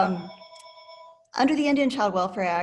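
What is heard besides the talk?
phone ringing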